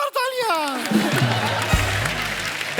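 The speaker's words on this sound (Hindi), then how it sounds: "ट्रिपल एक्सेल के लिए जोरदार तालियां।" Studio audience applause on a TV comedy show swells into a broad, steady clapping roar after a short descending musical or vocal flourish at the start, holding at an even loudness to the end.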